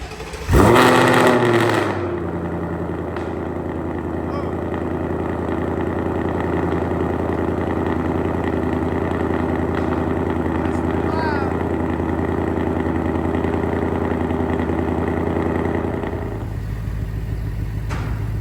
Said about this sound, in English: start the car, Kennedy.